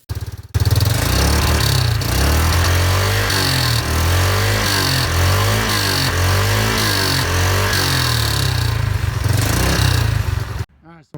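A Yamaha Rhino UTV on new tires runs loud and close after a sharp start, its engine chugging in a rhythmic, pulsing beat for about ten seconds before cutting off abruptly.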